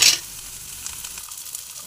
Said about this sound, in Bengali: ধনা পাতাটা বেশি ভাজবো না, অল্প ভাজবো।